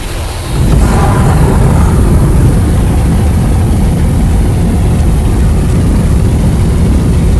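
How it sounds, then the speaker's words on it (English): A rocket engine ignites and launches, opening with a quieter rumble that swells within the first second into a loud, sustained low roar holding steady through to the end, with no voices. "Ignition sequence starts."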